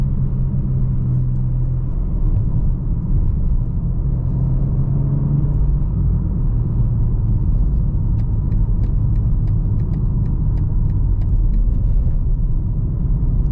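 A 2022 BMW M4 Competition coupe's turbocharged engine pulls hard under full throttle, a steady, loud, close-up rumble with road noise that holds without a break from start to finish.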